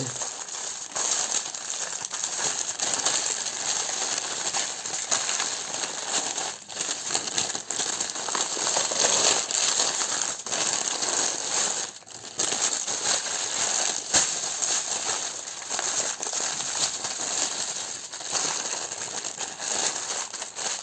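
Baking paper crinkles and rustles continuously at close range as it is wrapped around a beef tenderloin and tied with string, with uneven handling rattles and a few sharper crackles.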